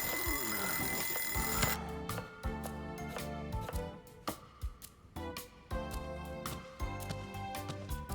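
An alarm clock rings in the video game Lost Judgment: a loud, continuous electronic ringing for nearly two seconds, then it returns in rapid repeated bursts over game music and effects.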